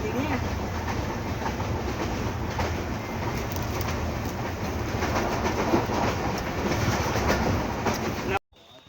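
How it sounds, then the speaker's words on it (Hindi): Farid Express passenger train standing at a railway station, with a continuous loud rumble and rattle of rolling stock, faint bird calls, and some distant voices mixed in, cutting off abruptly near the end. "ये आपको नज़र आ रही होगी सामने जो ट्रेन खड़ी है, ये भी फरीद एक्सप्रेस है।"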